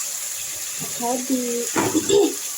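Water is poured into a small cooking pot holding fish. The gushing pour is brief and close, and a person speaks over it.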